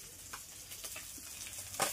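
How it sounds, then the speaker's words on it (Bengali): Puti fish frying in a pan give a faint, steady sizzle with a few soft crackles and a brief louder spatter near the end, heard from a short distance. "আর এখানে দেখো যে পুঁটি মাছগুলো ভাজছি"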